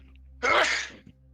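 A single sharp sneeze bursts out close and loud amid the quiet of a tabletop role-playing session, then fades with a small trailing breath.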